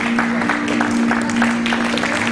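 A radio interview audience claps for comedian Mamane as he remakes his entrance to new music, giving a steady patter of applause under a sustained musical tone, mid-distance and moderately loud.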